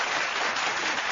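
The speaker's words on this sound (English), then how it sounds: "I wanted to add with that with that clapping effect." Applause sound effect welcoming a guest on a talk show, a dense, steady wash of clapping at even loudness throughout with no voices.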